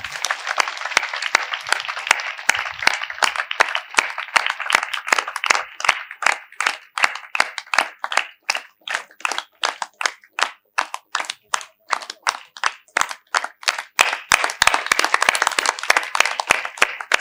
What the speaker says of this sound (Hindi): कृपया तालियां बजाएं।